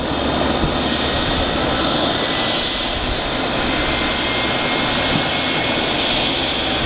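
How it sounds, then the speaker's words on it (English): A helicopter roars loudly and continuously nearby as it takes off, a dense engine and rotor drone holding steady throughout. "this guy's taking off in a helicopter."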